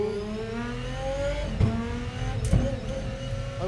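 A Gordon Murray GMA T.50s V12 revs against the pit limiter in second gear, a harsh, loud rising wail that bangs off the limiter twice with sharp cuts, close and with no talking.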